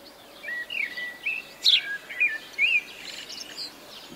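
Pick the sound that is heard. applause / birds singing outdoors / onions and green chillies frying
birds singing outdoors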